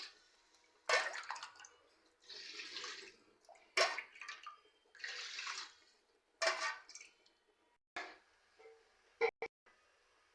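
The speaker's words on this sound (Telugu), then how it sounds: "ఇప్పుడు ఒక గ్లాస్ రైస్కి 2 గ్లాసులు నీళ్ళు తీసుకుంటున్నానండి." Water is poured in several separate bursts into a cooking pan for rice, each gush close and splashy with short quiet gaps between them and no voices.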